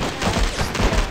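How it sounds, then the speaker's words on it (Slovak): Rapid overlapping gunfire fills a shootout in the cowboy video game GUN, a dense burst of shots over about a second with no talking. "A vidíte, už tu máme prvú strieľačku."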